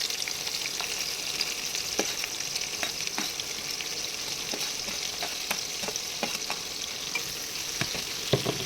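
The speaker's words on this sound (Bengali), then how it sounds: "দেখতেই পাচ্ছি আমি ভালো করে পেঁয়াজগুলোকে এখানে নেড়ে চড়ে নিচ্ছি।" Chopped onions sizzle steadily in hot oil in a kadai, with a spatula scraping and clicking now and then as they are stirred; the frying hiss stays close and even throughout.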